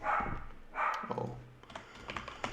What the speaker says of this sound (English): now the dog is barking